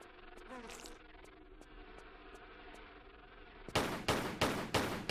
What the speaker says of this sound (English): I'm more than happy to take out these wasps with the pistols